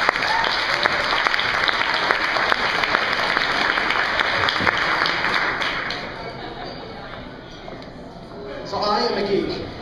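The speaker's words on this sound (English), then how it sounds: "So let's give him a big round of applause." Dense, loud applause from an audience welcoming a speaker fills the first several seconds, then thins and fades before a brief fresh burst of clapping near the end.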